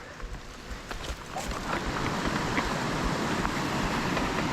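A waterfall's rushing water roars steadily, building into a dense, continuous wash of noise that fills the background.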